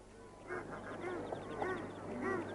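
Mountain ducks calling, a series of hoarse honking quacks repeated at moderate distance over a faint background hum.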